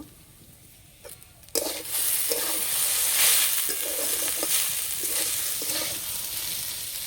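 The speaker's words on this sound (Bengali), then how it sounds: "হালকা করে ভেজে একটু নরম করে নিয়েছি" Lightly salted potato slices hit hot oil in a pan, where a quiet start bursts into a loud, continuous close-up sizzle. Soft scraping sounds of stirring recur throughout.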